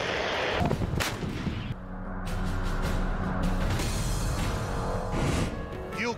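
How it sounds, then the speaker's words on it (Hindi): Howitzer artillery fire in a wartime setting, with a sustained loud, rumbling barrage of blasts and booms filling the whole stretch, continuous and dense rather than isolated shots. "इस बार बाइडेन ने हॉवित्ज़र तोपों की एक बड़ी खेप ज़ेलेंस्की को भेजी है।"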